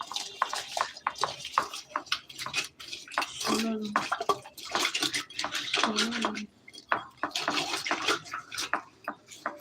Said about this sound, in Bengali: লবণ দিয়ে মাছটা ধুয়ে নিই